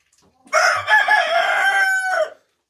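A rooster crows once, loud and close, a single drawn-out call of about two seconds against a quiet background.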